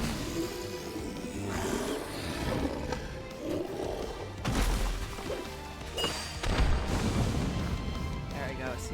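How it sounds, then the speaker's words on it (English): An explosion in the video game Final Fantasy XVI comes through as a series of heavy booms and crashing impacts at moderate volume, with several sharp bursts over a rumbling, cluttered game soundscape. "He didn't even look at the explosion."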